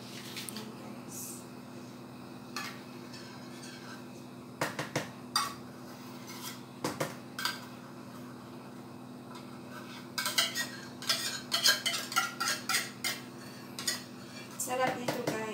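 A spoon stirs fruit salad with condensed milk in a bowl, giving sharp metallic clinks and scrapes, sparse at first and then quick and clustered toward the end over a low steady hum.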